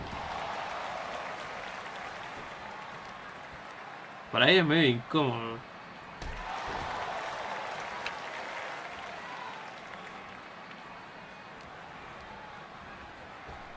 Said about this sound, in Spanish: Lo que noto de los japoneses, o sea, acá en el juego, es que cada golpe que haces, aplauden todos.